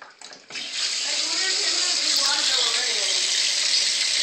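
Water gushes from a tap after a hyacinth macaw turns it on, a steady loud rushing stream starting about half a second in after a few clicks and knocks, close by.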